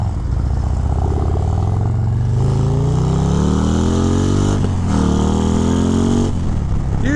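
A 2023 Harley-Davidson Road Glide ST with a 135 Stage 4 engine pulls hard on a test ride, its loud close V-twin rumble rising in pitch through the gears with brief dips at shifts and steady wind rush.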